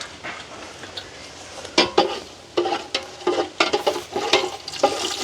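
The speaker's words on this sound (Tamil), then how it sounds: "எண்ணெய் வந்து சூடாகிட்டுது பார்த்திங்கன்னா கொஞ்சமாக கருவேப்பிலை அதோட வந்து கிராம்பு ஏலக்காய் அன்னாசி பூவும்" Curry leaves, cloves, cardamom and star anise sizzle in hot coconut oil: a soft crackle grows into bursts of spitting and popping as the spices hit the pan, close and lively.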